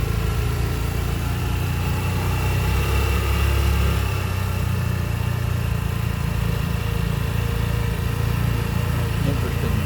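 A small John Deere crawler tractor engine running at an outdoor tractor and engine show, a steady loud low rumble with constant mechanical vibration and no speech over it.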